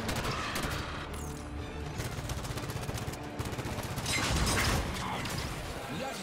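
Gunfire in the Halo 5 campaign, dense overlapping bursts of automatic weapons rattling continuously, loud and close, with a heavier surge of shots partway through and mechanical clatter mixed in.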